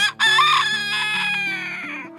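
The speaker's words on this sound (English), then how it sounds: "a video of Philippe crowing when he's a baby" A young pet rooster crows once in a long, loud, strained cock-a-doodle-doo, close up, with the call wavering and trailing off at the end.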